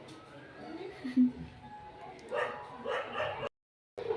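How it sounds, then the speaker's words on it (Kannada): Dogs barking and yipping somewhat far off in a few scattered bursts, with faint background voices and a brief drop to silence near the end. "ಎಷ್ಟೊಂದು ಸೌಂಡು ನಾಯೆಲ್ಲ ಬೊಗ್ಳುತ್ತಾ ಇದೆ"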